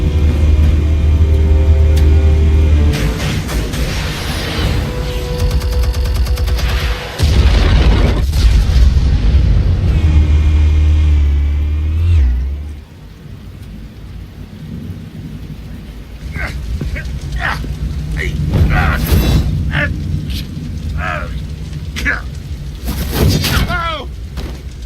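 Explosives detonate in Telltale's Batman, deep booming blasts with heavy low rumble and debris, loud at first then fading, with voices and effects following.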